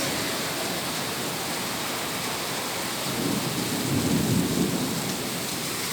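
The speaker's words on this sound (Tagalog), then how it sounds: "Ang kulog, guys. Tapos mahangin." A thunderstorm pours heavy rain in a constant dense hiss, with a low rumble of thunder swelling midway and fading again.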